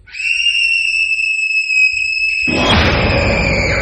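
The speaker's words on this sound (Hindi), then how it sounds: "फ्रिज का दरवाजा खोलते ही एक जोर की चीख ने उसे रोक दिया।" A loud, sustained scream effect in a horror story, a piercing tonal shriek holding steady for over two seconds before breaking into a harsh, noisy roar that continues to the end, with no talk.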